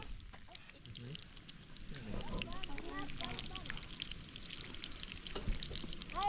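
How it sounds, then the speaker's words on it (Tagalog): Strong flow of spring water on a farm pours and rushes steadily throughout, with quack-like calls and indistinct voices mixed in nearby. "Lakas ng tubig."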